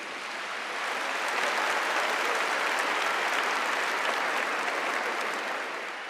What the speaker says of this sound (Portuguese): Aplauda essa palavra linda de Jesus.